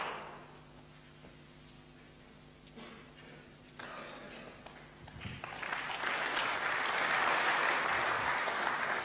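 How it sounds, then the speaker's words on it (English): A snooker crowd at the 1996 Masters final between Hendry and O'Sullivan breaks into applause. Quiet murmurs give way to clapping that swells about halfway through and keeps building into sustained, fairly loud applause. "Well, applause"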